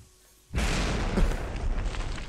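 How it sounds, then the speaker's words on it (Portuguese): Bombs go off in a video game, a sudden loud blast after half a second of quiet, followed by a sustained roaring, crackling rumble that stays loud to the end. "vamos ver a explosão"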